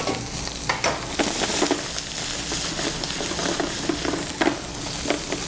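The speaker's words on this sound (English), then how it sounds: "So now we're cooking our shrimp scampi in this flavorful oil." Shrimp scampi, six shrimp, frying in flavorful hot oil in a moving pan, giving a steady close sizzle with scraping clinks and bumps from stirring, and no voices.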